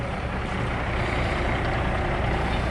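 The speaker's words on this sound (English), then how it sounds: "Leave the trailer brake set there and pull the truck forwards a little bit." Semi truck engine rumbling as the tractor pulls forward against a trailer with its brake set to test the fifth wheel lock, a steady loud low drone with diesel throb and no voices.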